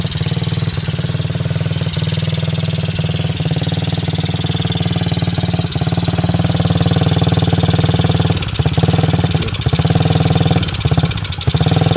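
Small 90cc TaoTao ATV engine running off choke, a loud, close, buzzing idle with uneven stumbles and brief sputtering dips toward the end.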